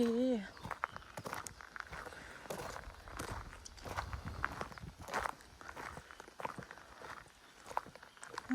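Footsteps crunching along a trail in a Swedish forest while foraging for chanterelle mushrooms, an irregular run of nearby steps on the forest floor, with a voice talking at moments and a brief whistling call at the start.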